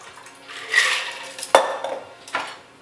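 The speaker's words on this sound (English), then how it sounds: "Once you give that a good mix, all you do is strain it out." A daiquiri is strained out of a shaker, with a liquid pour and several sharp metallic clinks of the shaker and strainer against the glass, close and clear with no talking.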